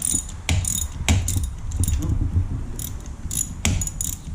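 A ratchet tightens a spark plug on a Honda CBR250R MC19 motorcycle engine, giving close, rapid metallic clicking in short bursts with brief pauses between strokes.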